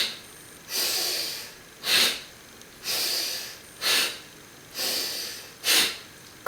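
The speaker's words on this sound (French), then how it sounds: "Sur l'expire, j'expulse l'air par le nez." Forceful yoga breathing with sharp exhalations pushed out through the nose, six strong bursts in a steady rhythm about once a second, close and clear with quiet pauses between and no talking.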